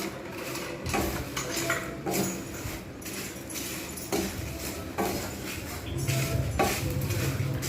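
Whole cumin seeds dry-roast in a pan with dried red chillies, heard as repeated scraping and rattling strokes of a utensil against the pan in an uneven rhythm, moderately quiet, without speech.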